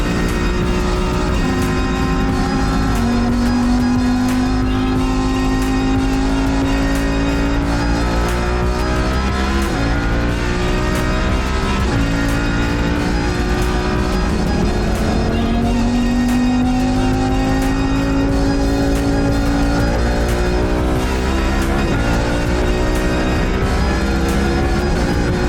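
A Lamborghini engine out on a racetrack, running down a cylinder and sounding flat, drones loud and steady under constant load, its pitch rising and dipping as the car drives, with no talk over it.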